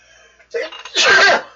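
A single sharp sneeze, close and loud, preceded by a brief intake of breath and faint murmuring.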